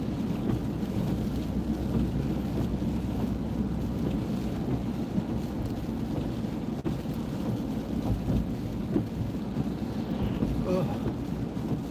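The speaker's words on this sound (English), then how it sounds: "Yeah, we're getting rain. Not a lot, though." Rain falls steadily outside during a light shower, a continuous broadband hiss with a low rumbling undertone that holds at an even level throughout.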